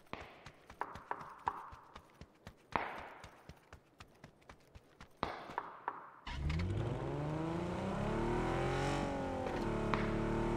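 A car in the battle-royale shooter PUBG: about six seconds of quick, uneven footstep-like clops, then an engine roars up close and keeps running loud and steady with rising and falling revs.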